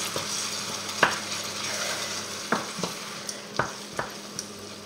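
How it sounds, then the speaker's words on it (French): Roquefort cheese is stirred into mussels in a pan over lowered heat, a soft continuous sizzling hiss punctuated by a few sharp clinks and scrapes of a utensil against the pan. "Et on remue jusqu'à qu'il fonde."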